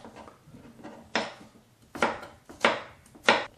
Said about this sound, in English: So what I'm going to do with the cucumber is just to slice it up a little more thin slice.